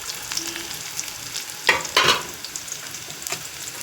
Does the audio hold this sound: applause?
no